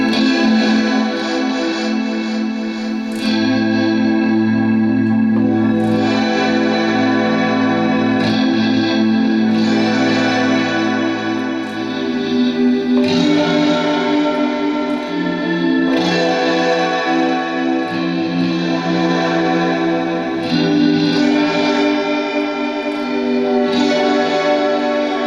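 Electric guitar through a Digitech XP300 Space Station pedal on a string-shift setting in fifths, producing dense, shimmering, pitch-shifted chords that swell and overlap with washy modulation and echo, played continuously at steady loudness with no voices.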